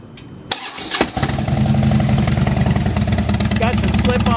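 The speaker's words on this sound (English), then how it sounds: "Let's start this one up and let you hear it. It's 96 inches of fuel injected torque." A 2011 Harley-Davidson Dyna Fat Bob with a 96-cubic-inch fuel-injected V-twin and slip-on pipes cranks with a couple of sharp clicks, then catches and settles into a loud, close, throbbing idle.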